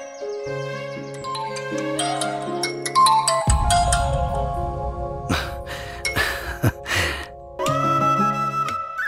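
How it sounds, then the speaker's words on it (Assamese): A mobile phone rings in a pocket with a melodic tonal ringtone that plays on and off, interrupted by rustling and a few gasps and breaths. "আপোনাৰ ফোনটো দেখোন পকেটত ৰিং হৈ আছে"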